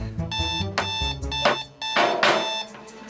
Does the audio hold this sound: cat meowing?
no